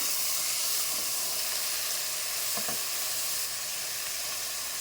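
Tomatoes dropped into a pan of onions and green chilies frying in oil until golden; a loud, steady sizzle hisses close by throughout, with a couple of faint stirring taps.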